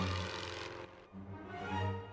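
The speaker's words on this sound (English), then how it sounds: "That must just be a recon plane." A single recon plane in The Great War: Western Front drones overhead, a faint propeller engine hum that swells, dips briefly, then returns, distant and steady.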